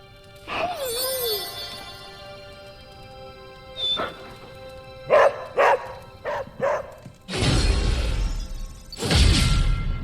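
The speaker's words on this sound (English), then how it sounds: "Hey, Charlie Warley Puppy Face" A dog in the video game Marvel's Midnight Suns whimpers and yips, then lets out a series of short, close barks, followed by louder crashing bursts near the end.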